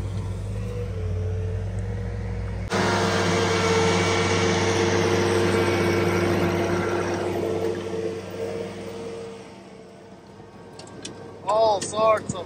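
A big forestry machine fitted with a CONETEKS 2.5SF attachment runs at 1800 RPM, a steady loud engine drone and grinding roar that holds for several seconds, then drops away, leaving a quieter hum and a voice.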